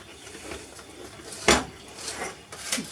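Cake bar batter being stirred in a bowl, the utensil scraping and knocking against the sides in uneven strokes with one sharper clack, close and alone.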